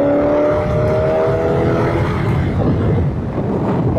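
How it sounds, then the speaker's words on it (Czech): A Boss Hoss motorcycle fitted with a 5.7-litre Corvette V8 engine runs steadily underfoot, a loud, continuous rumble mixed with heavy wind buffeting, no talking. "pode mnou běží motor z Corvety"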